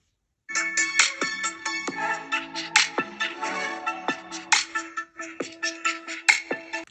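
Ringtone-like music plays through the single bottom-firing speaker of a Samsung Galaxy A24 phone, a bright melodic tune of quick repeated notes that sounds clear and close and lasts about six seconds.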